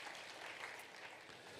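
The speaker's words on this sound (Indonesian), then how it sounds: "Yuk tepuk tangan yuk buat Tuhan" A church congregation claps in praise to God during a sermon, a continuous wash of many hands applauding, fairly even and moderately loud throughout.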